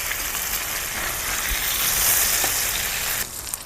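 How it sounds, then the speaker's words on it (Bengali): Paneer frying in hot oil in a wok, a steady loud sizzle that crackles continuously and fades slightly at the end, with no voices. "পনিরটা কিন্তু একদম লাল লাল করে ভেজে নিয়েছি"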